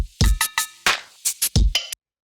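Punchy drum beat squeezed hard by a glue compressor, a run of about eight tight hits with booming low kicks and bright snare and hat cracks in an uneven, breathing groove, loud and close, ending abruptly.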